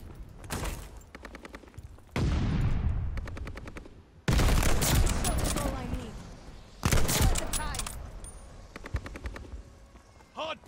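Dense bursts of rapid automatic gunfire and explosions erupt around a contested hard point in a first-person shooter video game, coming in several loud overlapping volleys separated by brief lulls.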